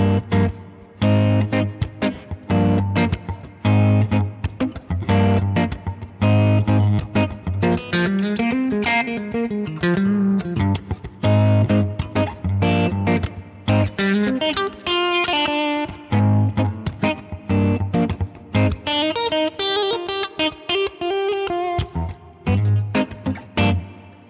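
Phrygian chord scale on a distorted, effects-heavy electric instrument, alternating the root and flat-second chords over a sustained low drone, with rhythmic strummed stabs and melodic fills running steadily for over twenty seconds.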